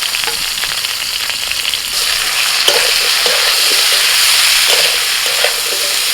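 Drumstick (moringa) stalks and a little chopped onion frying in a pan over fried potato, a steady loud sizzle with bursts of crackle and stirring scrapes throughout, no voices.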